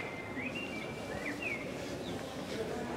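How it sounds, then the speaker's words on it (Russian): Small birds chirp in short, thin calls over busy street noise in Freiburg city centre, with a few brief tweets scattered through and people talking nearby. "Слышь, как птички поют?"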